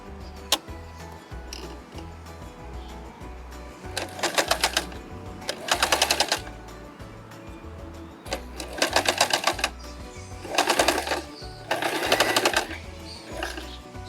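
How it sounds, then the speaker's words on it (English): A sewing machine runs a zigzag stitch along a strap in several short, loud bursts of rapid clattering, separated by quieter gaps of low steady hum, close by. "I'm just gonna fold in, and run a zigzag stitch like so"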